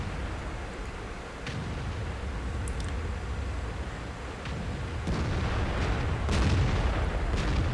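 A T-54 tank gun fires in an online tank battle game, a heavy boom over a constant rumbling engine and battlefield din, with a stronger blast late on and no voices.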